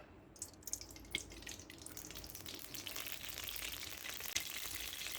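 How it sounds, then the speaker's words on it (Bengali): Hot white oil, about half a cup, sizzles steadily in a heated wok, a continuous crackling hiss that swells a little toward the end, close by with no talking. "কড়াই গরম হয়ে গেছে সাদা তেল দিলাম হাফ কাপ"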